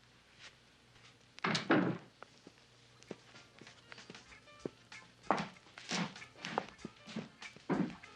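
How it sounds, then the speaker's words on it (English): Clunks and knocks of a door being worked open, several sharp thuds and rattles spaced irregularly, close by with a hushed room behind. "We'll get your door open."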